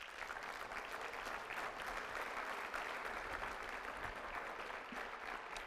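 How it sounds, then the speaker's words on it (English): Sustained applause from a university convocation audience, a dense wash of many hands clapping steadily at moderate volume with no voices over it. "Give all of yourselves another round of applause."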